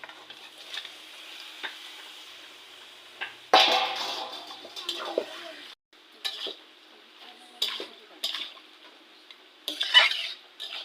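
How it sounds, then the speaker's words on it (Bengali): Chicken meat goes into a hot pan of cooked spice paste and is stirred and mixed, with scraping, clinking utensil strokes over a sizzling fry that comes in uneven bursts. "এবারে মাংসটা দিয়ে দেবো।"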